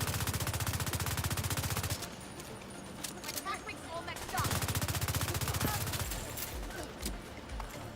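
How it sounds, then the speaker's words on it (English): Enemy gunfire in The Division 2 during a Bighorn build firefight: rapid automatic bursts crackle in a steady rhythm, pause briefly amid scattered shots, then resume as sustained fire, fairly close and moderately loud. "she's shooting me now"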